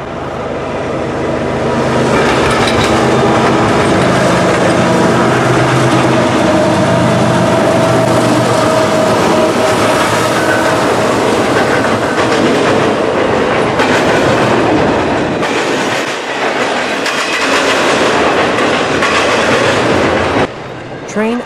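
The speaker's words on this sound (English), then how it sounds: "Train I-008 is a Tuesday through Sunday intermodal train that carries intermodal traffic between St. Louis, Missouri and New York, New York." A CSX intermodal freight train rolls past nearby, its loud, sustained wheel roar and rhythmic clickety-clack of railcars continuing steadily before easing off near the end.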